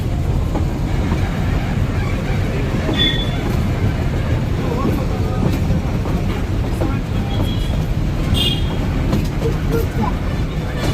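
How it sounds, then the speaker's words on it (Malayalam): A train reversing slowly toward a station in Ooty, a steady rumbling roll with faint clatter and brief squeals, voices talking over it throughout. "ട്രെയിൻ റിവേഴ്സിലേക്ക് സ്റ്റേഷനിലേക്ക് പോവാണ്"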